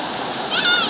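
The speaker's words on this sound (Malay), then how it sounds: "Ini air cetek sampai kita lutut." Shallow, knee-deep river water at Sungai Ulu Bendul rushing and splashing in a steady, close, full wash of sound with no voices over it.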